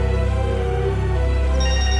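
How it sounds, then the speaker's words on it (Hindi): A mobile phone ringtone plays for repeated incoming calls. Steady, loud melodic tones sound close by, with no voices over them. "यहाँ पर ये बार बार मुझे फोन कर रहे हैं"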